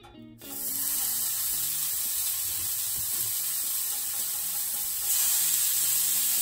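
Burger patties for a Frisco melt sizzle on a flat top griddle at about 375 degrees. The steady, close frying hiss starts abruptly and holds throughout, brightening slightly near the end, with no talk over it.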